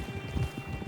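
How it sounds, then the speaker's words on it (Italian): Horses' hooves clip-clop steadily in Red Dead Online, a quick even rhythm of close, moderately loud hoofbeats over a constant low game ambience, with no talk. "I cavalli non si fermano."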